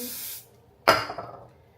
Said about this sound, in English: use some of my Glueless Lace Spray, the Kiss Color Spray